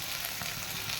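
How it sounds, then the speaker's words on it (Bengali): Chicken sizzles steadily while being sautéed in a pan in a home kitchen, a continuous close frying hiss with faint stirring and no one talking. "আমি এখানে চিকেনটাও বসিয়ে দিয়েছি, এখন চিকেনটা কষাবো, মানে কষাচ্ছি।"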